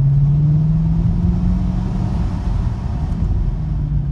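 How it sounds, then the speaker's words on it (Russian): A Mercedes E63 AMG W212 V8 revs close by, a loud steady engine drone with a faintly rising pitch and constant rumble, no voices. "Двигатель готов, резвый и не спит."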